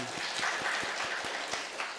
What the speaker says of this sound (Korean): 그 다음에 이제 박수 쳐야 돼?